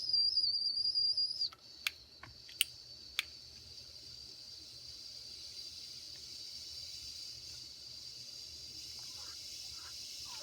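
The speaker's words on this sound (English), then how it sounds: "Whistle." A 74-year-old mini steam engine gives a short, shrill, steady whistle of about one and a half seconds that stops abruptly. A few sharp clicks follow, then a low steady hiss carries on to the end.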